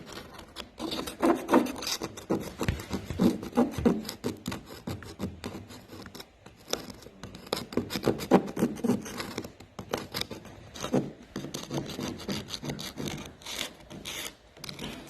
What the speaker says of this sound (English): how I know that is the sound of the scraper